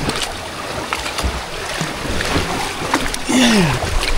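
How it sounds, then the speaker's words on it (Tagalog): Strong waves slap against a small boat at sea near an island, a steady rush of water and wind across the whole stretch, with a brief voice-like tone rising near the end. "Malakas yung alon."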